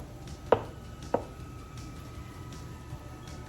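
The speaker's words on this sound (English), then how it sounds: "I'm just gonna kind of chop this up into chunks." Two sharp knife chops a little over half a second apart, cutting an ingredient into chunks for a thick cheeseburger soup, close and fairly quiet over a soft kitchen background, then quiet.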